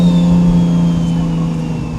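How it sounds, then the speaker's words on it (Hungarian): A Nissan Stagea RS Four S with an HKS turbo hums at a steady, loud drone, its engine note held fairly even with a faint turbo whine above it throughout. "Nagyon szép hangja van az autónak."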